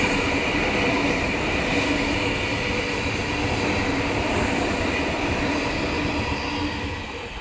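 A Sydney passenger train rushes through Banksia station, a loud, steady roar of wheels on rail with a faint high squeal, easing off slightly at the end.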